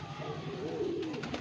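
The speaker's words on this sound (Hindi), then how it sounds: "बहुत ही लाजवाब कबूतर।" A pigeon at a summer pigeon-flying tournament in Bareilly, Uttar Pradesh, gives a soft, rolling coo close by, a single throaty call over light background noise.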